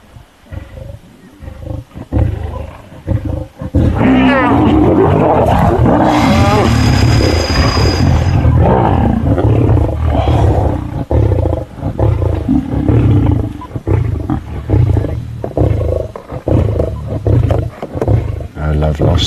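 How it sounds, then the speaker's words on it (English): A male lion roars at a safari track, loud and close, a long rolling series of deep heavy grunting roars that builds and carries on, with people talking quietly underneath. "male lion roaring."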